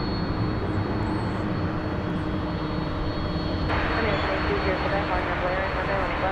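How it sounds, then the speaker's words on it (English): A 17-year-old Boeing 747-400 bound for Louisville sits at DFW airport with its jet engines running as a steady, broad roar that rises midway. The engines are heard at some distance, and people talk over them. "It's a 747-400."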